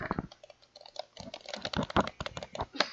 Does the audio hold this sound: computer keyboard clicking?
yes